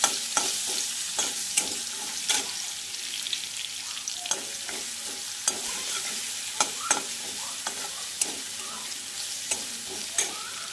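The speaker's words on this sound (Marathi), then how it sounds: "10 ते 12 पाकळ्या लसूण घेतलेला होता मी आणि याला छानपैकी असं फ्राय करून घेणार आहोत।" Garlic cloves, ten to twelve of them, fry in hot oil in a pan for a bitter gourd dish, giving a steady close sizzle broken by regular scraping clicks of a spoon stirring them.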